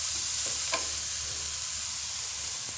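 Wet grated-coconut barfi mixture stirred in a pan over a medium flame, a soft continuous sizzle with a few light scraping strokes, close and quiet, no voices.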